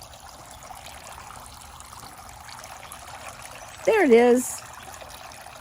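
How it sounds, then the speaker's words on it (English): A backyard water fountain trickles steadily and softly throughout, a low continuous patter, with a person's short remark briefly rising above it near the end. "There's my water fountain."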